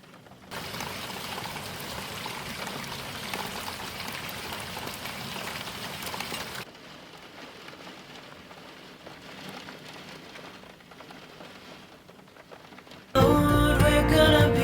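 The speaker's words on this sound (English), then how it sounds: "I'm not sure if you'll be able to hear the wind and the rain in the background" Wind and rain outside a house, a steady soft hiss of rainfall heard from indoors, stronger at first and then quieter, ending in a sudden loud burst of different sound.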